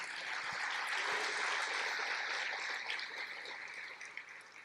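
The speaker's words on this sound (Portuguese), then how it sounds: "Pode aplaudir." Church congregation applauding during a sermon, a dense, steady wash of clapping that stays loud throughout and thins slightly toward the end.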